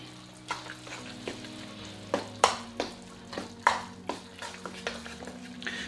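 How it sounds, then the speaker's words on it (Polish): A pan of ground wild forest mushrooms mixed with onion and tomato purée sauce is stirred in a steady rhythm of scraping spoon strokes over a soft sizzle, close up with no talking. "Wstępnie muszę to wymieszać, słuchajcie."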